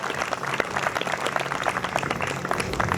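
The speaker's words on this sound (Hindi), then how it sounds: "ताली बजाओ" A crowd at an evening Hindi poetry recital (kavi sammelan) breaks into brisk clapping, a busy, moderately loud patter of many hands lasting about three seconds with a faint low hum underneath.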